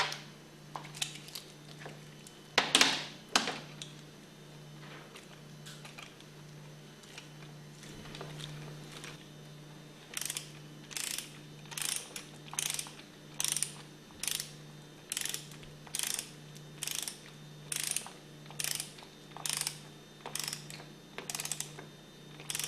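A torque wrench ratchets a steel bolt into the aluminum piston of a HYPRO D403 diaphragm pump during servicing. A few scattered clicks come first, then a long, even series of sharp ratchet bursts, each close and distinct.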